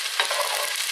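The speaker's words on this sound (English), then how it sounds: "We're going to put in the onion now." Chopped onion sizzling in olive oil in a pot as the base for an Icelandic lamb soup, a close, steady frying hiss with a soft stir partway through.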